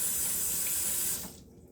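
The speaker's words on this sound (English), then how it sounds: "I'm going to rinse my hands out" Hands being rinsed under a running kitchen tap, a steady close hiss of flowing water that cuts off abruptly near the end, leaving faint quiet.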